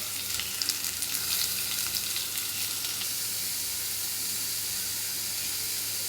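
Beetroot sautés in oil with mustard seeds and small onions, giving a steady, close sizzle and hiss that runs unbroken throughout, with a few crackles early on and no voices.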